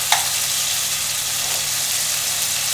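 Beef searing in a pan for stroganoff, giving a steady broadband sizzle throughout with a short sharp clink near the start.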